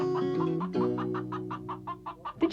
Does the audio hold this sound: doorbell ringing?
no